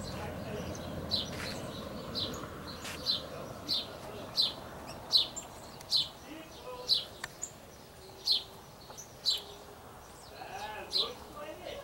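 Small birds chirp at a feeder on a rural farm smallholding, about a dozen short, high calls spaced roughly a second apart over faint background noise, with a voice speaking briefly.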